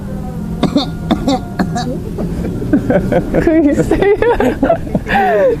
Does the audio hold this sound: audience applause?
no